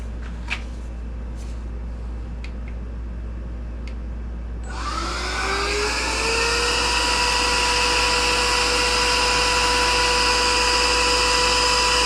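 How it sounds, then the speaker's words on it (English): A small vacuum cleaner switches on partway through amid speaker refoam work, its motor spinning up into a steady, loud whine that holds to the end after a few faint taps. "this one's kind of nice to have a little vacuum."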